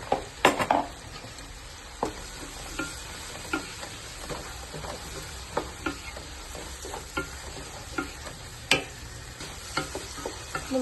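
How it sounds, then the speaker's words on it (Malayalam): Tomatoes sauté in a pan for Malabar mutton biryani, a faint steady sizzle broken by repeated clinks and scrapes of a spoon stirring against the pan, with no one talking. "നമുക്കിതൊന്ന് നന്നായി വഴറ്റി കൊടുക്കാം"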